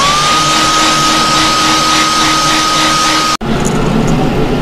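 Loud, steady blowing roar of a heat gun setting airbrushed paint on a gourami fish design, running continuously with a faint whine before it cuts off abruptly and a quieter hiss follows.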